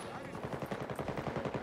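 Automatic gunfire rattles in Battlefield 2042, a fast, even stream of loud shots repeating roughly a dozen times per second without a break for nearly two seconds.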